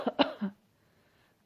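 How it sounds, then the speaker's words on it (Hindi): A person gives a few short, close coughs in quick succession, then a pause of near silence before another brief cough at the very end. "खांसते हुए उनका ध्यान बटाया।"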